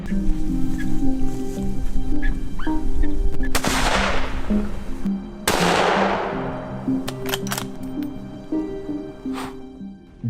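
Remington 700 rifle shots during a wild hog hunt: two loud, sharp broadband cracks a couple of seconds apart, each trailing off in a decaying echo, over a steady low outdoor hum with a few faint clicks.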